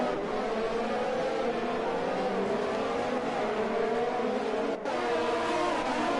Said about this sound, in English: The Ferraris are also battling.